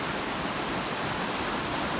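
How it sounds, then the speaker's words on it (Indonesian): The roughly 120 m tall Tumpak Sewu waterfall, falling in a wide curtain, gives a steady, dense, unbroken roar of rushing water with no pauses or other sounds. "Air terjun dengan ketinggian sekitar 120 meter, memiliki visual yang menyerupai tirai"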